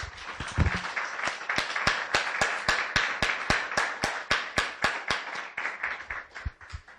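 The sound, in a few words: church congregation clapping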